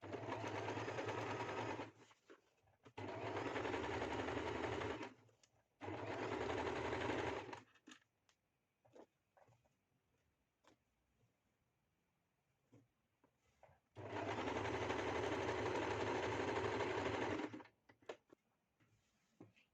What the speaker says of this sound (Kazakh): Енді осыны түзу тігіспен тігеміз қазір